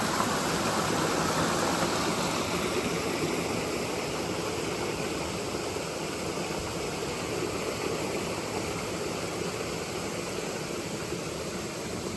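A creek flows steadily along a trail on the way to Caribou Lake, giving a continuous broadband rushing wash that stays even and unbroken throughout, with no voices.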